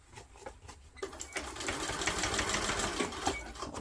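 Domestic sewing machine stitching a fabric tote bag over its straps: a fast, steady mechanical whir starts after a brief pause and runs continuously near the microphone, with faint clicks at the start.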